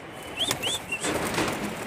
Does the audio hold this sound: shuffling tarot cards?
no